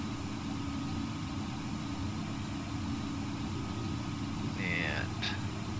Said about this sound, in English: I did turn the engine sounds down on the plane some more.